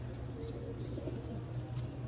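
Pigeons coo softly in a loft during morning feeding, low murmuring calls layered over a steady background hum, with no talking.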